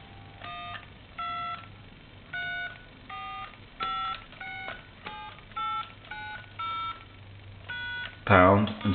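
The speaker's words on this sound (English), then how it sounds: "And then we want to break dial tone by dialing a number." A string of touch-tone dialing beeps on an old Crosley wall telephone, about a dozen short key presses in an uneven rhythm, ending with a brief louder burst of noise.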